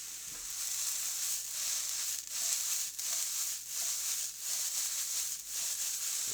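Chili flakes sizzling in hot oil in a pan, a steady bright crackle and hiss with soft pulses as they are stirred, close and alone.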